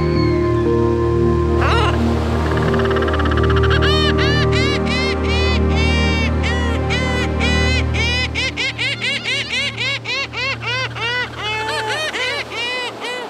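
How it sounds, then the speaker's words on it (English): Seabirds of the Galapagos Islands, including frigate birds, seagulls and gannets, call in a loud, dense chorus of honking and squawking, rising into rapid repeated cries over a steady background roar. "Frigate birds, seagulls and gannets, like so many other seabirds, found their food in the sea"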